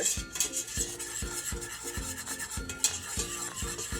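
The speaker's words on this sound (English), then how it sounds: "you just want to whisk it continually, making sure you get all of the flour bits incorporated in with the butter" Flour being whisked into melted butter in a pan on the stove, a rapid rhythmic scrape of the whisk against the metal repeating about twice a second over a light sizzle, close and steady.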